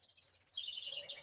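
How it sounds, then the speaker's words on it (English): Birds chirp outdoors in a quick flurry of high, thin tweets, faint and somewhat distant, with a soft low rumble of breeze underneath. "Breeze, you can hear the birds chirping."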